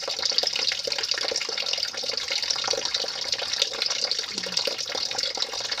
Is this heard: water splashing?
yes